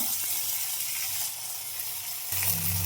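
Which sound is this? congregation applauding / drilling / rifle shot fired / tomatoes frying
tomatoes frying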